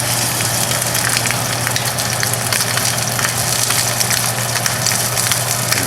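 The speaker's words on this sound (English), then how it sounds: "before I fry them, because the thyme won't really burn off and get all gross if I'm just frying it in ghee" Steady loud sizzling and crackling of hanger steak frying in hot ghee, continuous and close, with a low hum underneath and no talking.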